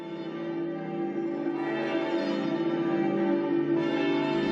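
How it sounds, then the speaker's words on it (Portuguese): Church bells ring steadily and loudly, their sustained tones overlapping in a continuous resonant wash with no voices. "Veja, por exemplo, o sino das igrejas, que chama a cidade inteira para a reza."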